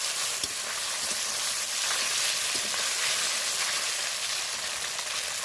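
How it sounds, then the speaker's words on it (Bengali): Snakehead fish frying in a pan of oil, a steady, dense crackle and sizzle that runs loud and unbroken from start to finish, with no voices. "মাছটা আমি ভালো করে ভাজবো"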